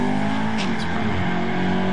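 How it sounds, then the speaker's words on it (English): Drag car engine with a solid lifter cam accelerating hard, a loud continuous roar with a rising, raspy mechanical tone close to the microphone, no talking. "Car sounds a little different, has a solid lifter cam"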